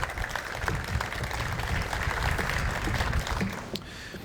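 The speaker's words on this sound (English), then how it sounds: "So a big round of applause to all of them." At an event at Long Beach Airport, an outdoor crowd claps for the airport team, a steady, moderately distant patter of applause with wind-like rumble underneath and no talking.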